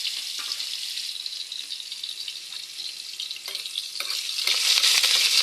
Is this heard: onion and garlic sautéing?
yes